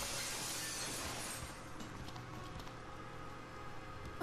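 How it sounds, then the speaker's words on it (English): Glass shatters under a seat cover in the point-and-click game Dead Synchronicity, giving a muffled, crunchy burst of breaking shards followed by faint trailing tinkles. "let's cross our fingers that the seat cover absorbs the noise of the breaking glass"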